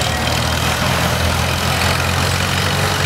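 A 1918 Minneapolis antique engine idles loudly and steadily at a threshing bee parade, a dense low rumble that doesn't change, with no one speaking.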